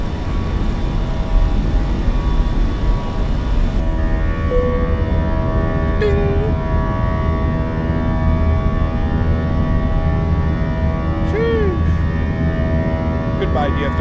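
Airbus A319 in a flight simulator game climbing out after takeoff from Dallas, a steady loud engine drone with tonal hum and a few brief chirping alert tones over it.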